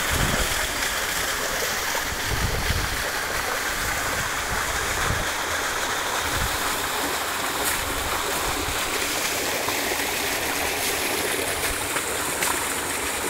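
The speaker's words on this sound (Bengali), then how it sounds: "দুই দিক দিয়ে পানি বের হচ্ছে" Water gushing from a solar-powered 3 hp 4x4 irrigation pump, pouring out of two outlets as a loud, steady, close rush that runs unbroken throughout with no talking.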